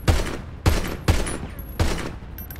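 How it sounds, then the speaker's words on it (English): Gunfire from people shooting in the street during a standoff outside a clothing store: four loud, sharp bursts at roughly even intervals, each echoing briefly before the next, with no voices heard. "They're shooting at us."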